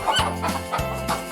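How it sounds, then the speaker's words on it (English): A chicken clucks close and loud in a short run of throaty, rhythmic clucks that hold steady, clear and uncovered. "It's a chicken."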